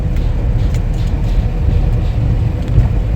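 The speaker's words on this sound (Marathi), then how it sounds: "पण भरपूर ट्रॅफिक असते, भरपूर" Steady low rumble of road traffic with passing vehicles on the Mumbai Sea Link flyover, continuous and fairly loud, no voices.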